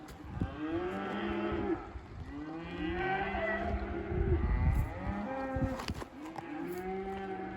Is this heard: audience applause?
no